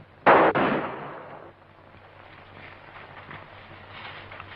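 Two sharp gunshots crack in quick succession at the start, loud and close, then a lingering echo and a quiet background rumble in a Western setting.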